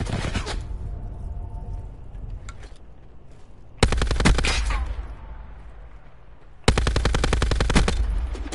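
Rapid automatic gunfire in Call of Duty Black Ops Blackout, two loud sustained bursts of machine gun fire breaking in after quieter stretches with scattered distant shots, close and harsh, with no voices.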